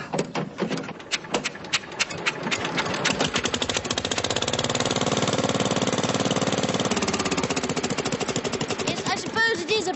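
An old car engine cranks with sputtering, irregular bursts, then catches and runs in a steady rapid chugging rhythm, loud and close, before faltering near the end.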